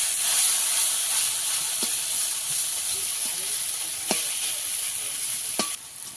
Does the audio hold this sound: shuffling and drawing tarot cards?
no